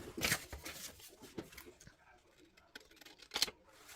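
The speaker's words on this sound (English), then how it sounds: "just have to snip that a little bit with the scissors." A few quiet, crisp scissor snips, scattered with short gaps, close by in a quiet room.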